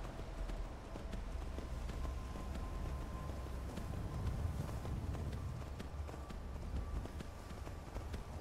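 Horse hooves gallop in Skyrim in a fast, steady rhythm of clip-clop beats, fairly quiet and continuous with faint wind underneath.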